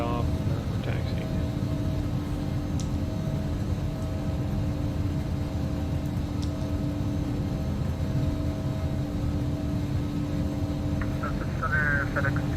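Embraer Legacy 650 business jet taxiing in X-Plane 11, a steady low engine drone with a constant hum running throughout, with faint brief clicks and a short chirp near the end.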